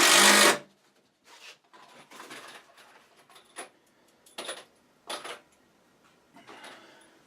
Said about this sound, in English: So we'll slam the screws in here.